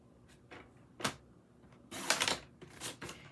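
Paper trimmer slicing through 8 1/2 by 11 cardstock: several short dry sliding swipes and rustles, a sharp cut near the start followed by a longer, louder scraping pass and two brisk strokes, close up with no talking.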